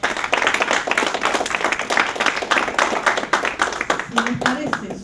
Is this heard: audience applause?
yes